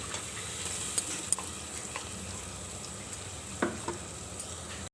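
Tomato and ground masala paste frying in a pan for a lunch-box rice dish, a soft, even sizzle with a few light clicks and scrapes of a stirring utensil.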